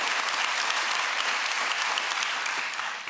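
Studio audience at a late-night TV show in Berlin applauds loudly and steadily, dense clapping filling the whole stretch with no voices over it, easing slightly at the very end.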